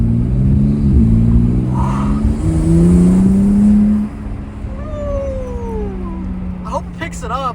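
A BMW G87 M2 fitted with cold air intakes revs loudly from inside the cabin, its pitch rising and holding before dropping to a lower idle drone, with a whining note sweeping downward afterward.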